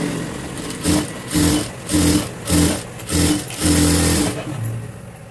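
Sewing machine stitching the round back neck of a princess-cut frock, running in six short bursts of whirring with brief pauses between them, close and clear, no talking.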